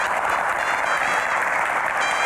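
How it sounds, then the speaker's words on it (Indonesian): Steady audience applause at an Indonesian event fills the space as a deputy minister for Hajj and Umrah is welcomed on stage, dense and even throughout with no pauses. "Tepuk tangannya boleh lebih meriah lagi."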